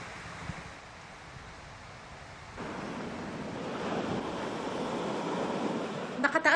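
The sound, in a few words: high sea waves in bad weather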